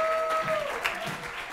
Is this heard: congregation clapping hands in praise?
yes